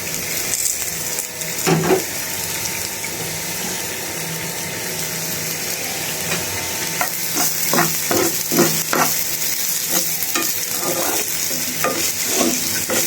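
Potatoes fry in a pan with a continuous close sizzle, broken by repeated scraping and clattering stir strokes, with a faint hum underneath.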